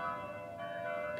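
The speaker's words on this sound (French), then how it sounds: "Ils sont fortes, les cloches, chez vous?" Church bells ring steadily with sustained, overlapping tones and rich ringing partials, heard continuously and fairly loud throughout without voices.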